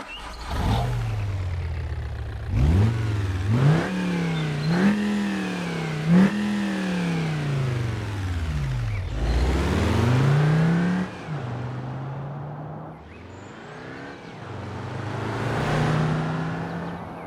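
A 1996 Volkswagen T4 van with a 2.5 TDI diesel engine revs repeatedly, each rise and fall of pitch distinct and loud. Several sustained blips climb and drop over about seventeen seconds with no talking.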